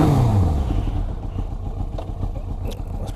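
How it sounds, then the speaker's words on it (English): A motorcycle engine catches and settles into a rough, uneven idle, with a brief falling whine at the start giving way to a steady low chugging and a few light clicks, close and alone without talk. "I'm just going to start up the bike and go for a quick ride"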